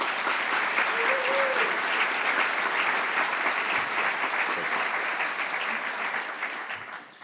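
An audience at the 2017 Texas National Security Forum applauds the forum directors with a steady, dense round of clapping that holds for several seconds and fades slightly at the end.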